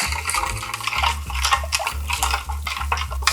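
Spoon scraping and stirring through a thick marinade of brown sugar, minced garlic and syrup for Korean braised pork ribs, a steady rhythm of close, repeated scrapes and clinks against a bowl, with no talking.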